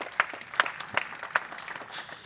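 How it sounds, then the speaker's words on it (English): Audience applause at an organization's opening address in Benue, Nigeria, heard as a few scattered, moderately close claps and hand strikes in a short burst rather than sustained ovation. "I want to applaud Muta for a job well done"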